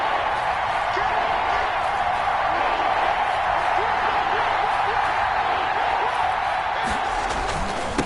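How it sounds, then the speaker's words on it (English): A stadium crowd in a football video game roars and cheers in a steady, dense wash that holds loud throughout, with scattered whoops and a commentator's voice over it. "this crowd's going to get even louder"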